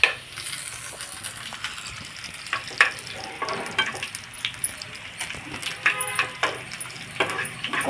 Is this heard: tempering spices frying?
yes